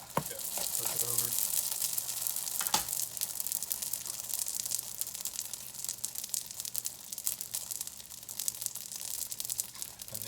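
Pizza dough frying in a pan over just-below-medium heat after being flipped, a continuous crackling sizzle with a brief clatter early on and a low hum underneath.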